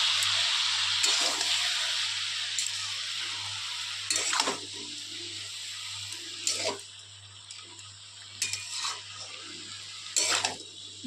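Potato, aubergine and spring onion stalks seasoned with turmeric and salt frying in a wok, a soft continuous hiss broken by several distinct scraping stirs of a spatula, close and without talk.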